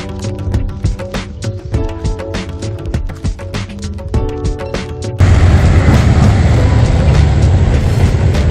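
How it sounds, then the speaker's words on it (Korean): A train rattles past Deungnyang Station in Boseong, South Korea, with a rapid clickety-clack of wheels over rail joints, then settles into a loud, steady rumble as the cars roll by nearby. "지금도 기차가 이곳을 지나가고 있습니다. 방금 지나갔어요."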